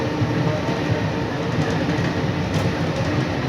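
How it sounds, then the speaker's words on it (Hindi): An airport metro train runs steadily, carriages rumbling and rattling in a continuous loud, close roar with faint clickety-clack from the wheels, and no one speaks. "पहले क्या बस था, अभी बस नहीं, अभी क्या ट्रेन हो गया, मेट्रो।"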